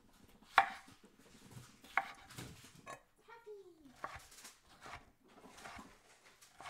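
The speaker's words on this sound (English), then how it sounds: "So I diced the tomatoes up" A knife dicing tomatoes on a cutting board for bison chili, a few sharp chops spaced irregularly with softer knocks and scraping between them, fairly faint, with a short voice and a dog's whimper nearby.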